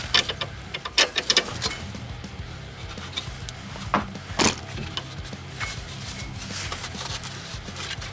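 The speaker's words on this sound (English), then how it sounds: "Now I just want to pull the bolts out." Bolts are worked out of a 2000 Toyota Camry XLE rear strut, making a run of quick metallic clicks and taps, denser at first, then scattered knocks and scrapes through close workshop noise.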